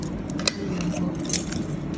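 Car keys jangle in short metallic clinks near the Toyota C-HR during a battery change, light and close over a steady outdoor background hum.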